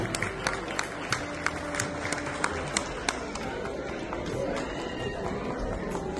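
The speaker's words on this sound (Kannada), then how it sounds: "ದಯವಿಟ್ಟು ಜೋರಾಗಿ ಚಪ್ಪಾಳೆ ತಟ್ಟಿ ಮಕ್ಕಳು ಬರ್ತಾ ಇದ್ದಾರೆ ಗುರುವಂದನೆಗಾಗಿ" An audience claps at a Kannada school honour function in Al Ain as children come on stage for a guru vandane, sharp regular claps in a steady rhythm over a busy hall murmur.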